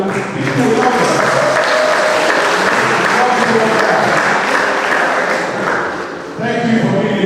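Sustained, loud applause from a conference audience at a law and society event, dense clapping filling the room for several seconds with a brief dip near the end before swelling again.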